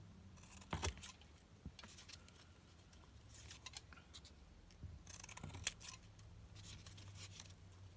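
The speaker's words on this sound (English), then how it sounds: "I want to cut some more of these in half" Scissors cutting through a thick stack of paper for craft embellishments, heard as a few faint, quiet snips and rustles in a calm room, with no talking.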